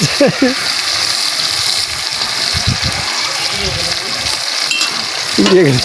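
Whole fish fries in hot oil in a large wok, a loud, close, steady sizzle with bubbling and spattering, while people talk over it.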